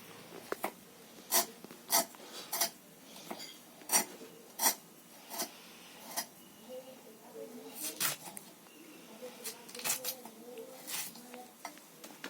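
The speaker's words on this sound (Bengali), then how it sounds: "আমি আলুটা কেটে নিচ্ছি বন্ধুরা।" A potato is cut by hand in a home kitchen, a run of sharp dry knife clicks and scrapes arriving in irregular bursts, close and fairly quiet, with soft murmured voices in the background.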